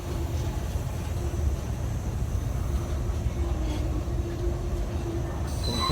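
Freight train hauled by an Alstom 4404 locomotive passes through a station siding, a steady near rumble of rolling wagons with a faint tonal hum, continuous and undisturbed by talk.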